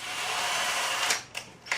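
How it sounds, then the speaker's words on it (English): A cordless drill whirs steadily as it spins a nut along a threaded shaft, a continuous close mechanical hiss that stops, then gives a couple of brief restarts. "with the two nuts locked together and then put in a cordless drill"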